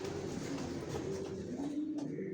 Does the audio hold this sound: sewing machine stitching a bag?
no